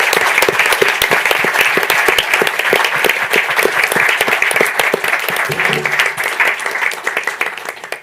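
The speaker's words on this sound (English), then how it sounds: "Now a big round of applause to everyone that makes it possible." An auditorium audience at a Python programming conference gives sustained, loud applause with dense overlapping clapping throughout, no talk on top.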